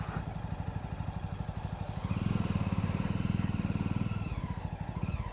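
Jawa and Honda Shine motorcycles ride together, their engines producing a steady, loud putter with rapid regular pulses that swell stronger partway through, with no talk over it.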